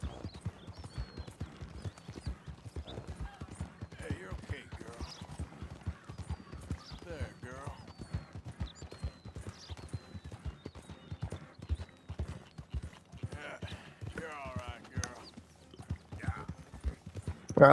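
A horse's hooves clip-clop steadily through Red Dead Redemption 2, a continuous rhythmic gait heard close and moderately loud, with quieter game sounds and chirps scattered over it.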